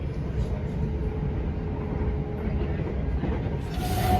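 Interior of a moving Thameslink passenger train, a continuous low rumble of wheels on rails with faint rhythmic clatter and a steady hum, close and even throughout, with a brief brighter hiss near the end.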